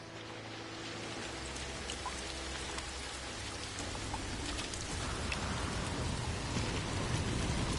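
Steady rainstorm from the No Man's Sky video game, a dense, even hiss of falling rain and drops with a low rumbling undertone, holding constant and swelling slightly toward the end, with no voices.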